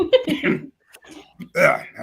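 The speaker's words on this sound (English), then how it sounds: "had to clear my throat." A man clears his throat with a few short, rough bursts, pausing briefly between them, close to the microphone and with no other sounds around it.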